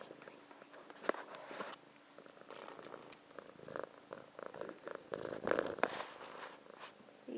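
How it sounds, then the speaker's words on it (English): A pet cat named Dusty purrs softly up close, a low steady rumble running under scattered rustling, handling noise and brief murmured voice. "Can you hear him purring?"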